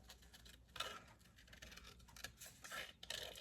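Quiet, close snipping and scratchy rustle of scissors cutting through fabric scraps in loose, irregular strokes, with no talking.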